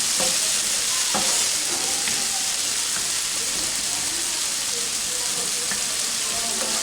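Onion sizzles in a pan with a dense, steady hiss of frying. A few scrapes and stirring clicks sound close by as it cooks, with no talk.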